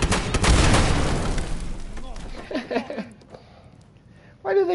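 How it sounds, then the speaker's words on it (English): Explosions in the video game Fallout 76: a loud broadband blast opens and decays over about two seconds, followed by quieter scattered bursts, with a voice talking over the later part. "Why do they keep exploding?"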